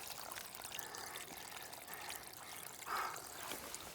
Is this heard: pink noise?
no